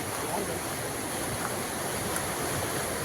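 Fast-flowing river water rushes through a dam, a loud, unbroken roar of churning water heard close up with no voices.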